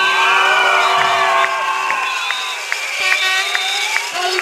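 A carnival crowd at the Kalamata Carnival cheers loudly, with high shouts and whoops from children and adults piling up over several seconds, and a little clapping mixed in.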